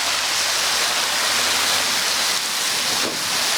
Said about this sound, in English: They have these fountains, so it's great for the kids to play.